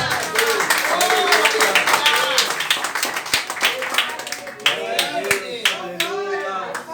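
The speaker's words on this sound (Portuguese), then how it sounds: "Aplaude ele porque ele merece." A church congregation claps together in a sustained round of applause, dense and steady throughout, with voices calling out over the clapping.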